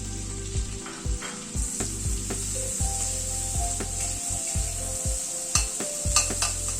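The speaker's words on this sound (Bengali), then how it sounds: "পেঁয়াজটাকেও খুব হালকা করে একটু ফ্রাই করে নেব।" Chopped onions and browned garlic fry in a pan, a bright sizzle punctuated by repeated rhythmic scrapes of a spatula stirring, close and clear with no speech.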